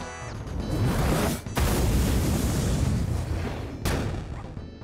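Eclipse cannon blast from the cake boss in Super Mario RPG on Switch, a sustained loud roaring boom that breaks off briefly twice, with no talk over it.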